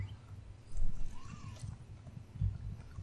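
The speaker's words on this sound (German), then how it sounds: "Ich kann mein Pferd nicht reiten." Horse hooves clip-clopping in The Elder Scrolls Online, a soft rhythmic patter of footfalls in the game world, low and moderately quiet with a brief louder burst midway.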